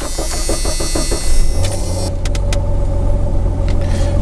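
Car being driven on a test run after its drive shaft U-joints were replaced, a steady close engine and road rumble with a few brief clicks and rattles from inside the cabin.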